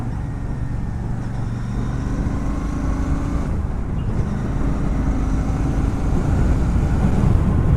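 A Royal Enfield Shotgun 650cc motorcycle rides along, its engine giving a steady, loud low rumble with wind and road noise all the way through and no talk.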